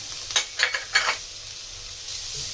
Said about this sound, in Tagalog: Dahil igigisa natin yung ating shrimp o bagoong.